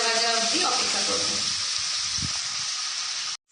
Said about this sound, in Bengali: সমস্ত উপকরণ এবং এতে সামান্য জল দিয়ে দেব, দিয়ে এটা নাড়াচাড়া করে নেব এবং ভাজা ভাজা অবধি অপেক্ষা করব।